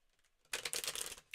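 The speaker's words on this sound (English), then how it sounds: "Just shuffling his deck quickly, Alicia." A tarot card deck being shuffled quickly, a burst of dense papery riffling and flicking that starts abruptly and continues for nearly a second before trailing off, close and fairly quiet with no speech.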